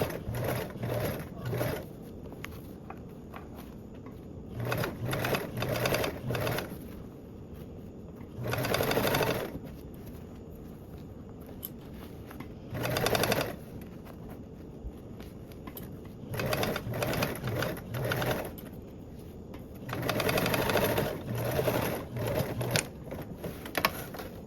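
Topstitching a seam on a rainbow color-blocked duffle bag panel, a sewing machine runs in repeated short bursts with gaps between them, close and clear over a quiet room.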